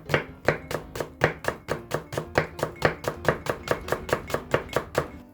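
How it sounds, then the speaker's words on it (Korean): A kitchen knife slices a thick green onion (daepa), split lengthwise, on a cutting board while ingredients are prepared for takoyaki: about twenty crisp, evenly spaced chops in a fast steady rhythm, close and clear, with no talking. "이런 굵은 대파의 경우는 그냥 반을 갈라서 슬라이스 해주시면"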